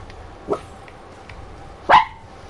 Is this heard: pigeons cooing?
no